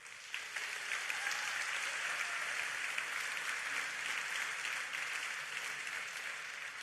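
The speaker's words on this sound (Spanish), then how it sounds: "Un aplauso para ella" An audience at the Aena Prize gala for Hispanic American narrative applauds an author with even, sustained clapping, heard at a moderate distance and holding steady from start to finish.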